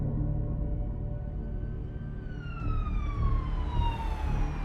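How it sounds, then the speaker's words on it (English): A police car siren wails as the cruiser speeds down a residential street, its rising and falling tone sweeping steadily over a low rumble of rain and traffic, growing louder toward the end. "hard Carter of the Lynette Police Department sped down Charlotte's residential street with his lights flashing and siren blaring"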